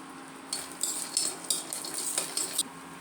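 Chopped raisins, cashews and almonds fry lightly in ghee, a faint sizzle beneath repeated metallic clinks and scrapes of a spoon stirring in the pan.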